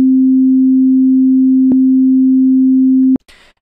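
A single MIDI note loops in Ableton as a loud, pure sustained sine-like tone, restarting with a click partway through and again near the end before stopping abruptly.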